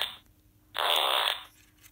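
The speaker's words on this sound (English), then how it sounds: "Now it makes like a farting sound." A SmartLab Smart Circuits sound module plays an electronic farting sound, a single loud buzzy blast lasting about half a second against a quiet background.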